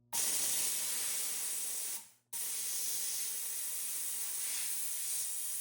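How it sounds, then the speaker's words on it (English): A steam cleaner blasts a gold ring with a loud, close, steady hiss in two bursts, broken by a short pause before the second. "We're going to steam the ring."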